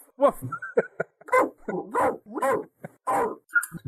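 A person's voice imitates a French bulldog barking, giving a run of short, gruff woofs in close, steady succession with no other sound.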